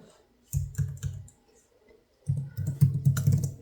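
Typing on a computer keyboard while adding search tags to a shirt listing for a new clothing collection launch, two bursts of rapid, close key clicks separated by a brief pause.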